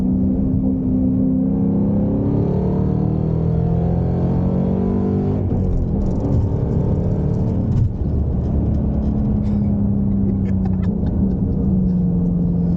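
A 750-horsepower 2021 Mustang GT Performance Package idles and revs with a deep, close, continuous rumble, its engine pitch rising and falling in smooth swells and no talk over it.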